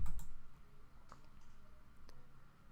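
Sparse, quiet computer mouse clicks tick in an office setting, a couple of sharp clicks at the start and a few more scattered through the short stretch.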